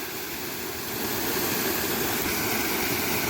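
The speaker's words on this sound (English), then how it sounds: "This type of waterfall is known as a horsetail fall." Horsetail waterfall, its water staying in contact with the rock as it cascades down, gives a steady, broad rushing roar that swells slightly after the first second and holds loud and continuous, with no voices.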